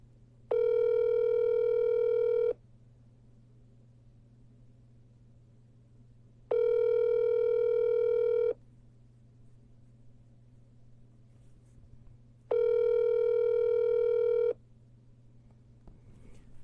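Telephone ringback tone on an outgoing call, three evenly spaced two-second buzzing tones separated by about four seconds of quiet, clear and steady over a faint low hum, with no one talking.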